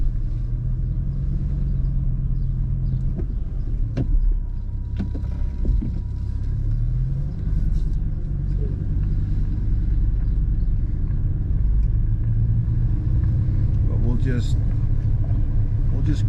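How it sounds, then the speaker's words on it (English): A BMW E60 M5 cruises gently while still warming up, its engine a steady low rumble heard from inside the cabin with the windows cracked, with road and wind noise throughout and occasional faint sounds. "leave the windows a little bit down so you can hear what she sounds like"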